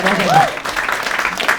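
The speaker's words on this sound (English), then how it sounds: "Clap your hands if you've ever been in a relationship in your entire life." A comedy-special crowd claps briefly as a voice talks over the top, a short scattered patter of hands mixed with talk.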